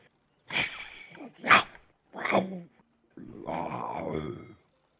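A voice imitates a creature called Calcryx in a tabletop role-playing session, giving several short breathy hisses followed by a longer rasping growl, close and moderately loud with brief pauses between.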